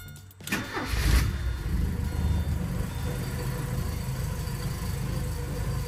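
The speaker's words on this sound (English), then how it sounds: "I want you guys to see just how great this thing starts up." A 1984 Porsche 944 cranks over with a brief starter whir, then catches with a loud surge and settles into a steady, rumbling idle, close to the car and with no talking.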